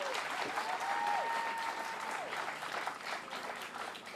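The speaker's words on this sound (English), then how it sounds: "She deserves another round of applause" An audience at a press conference about a mall demolition claps in a steady, moderately distant round of applause, with a faint tonal whine over the first couple of seconds.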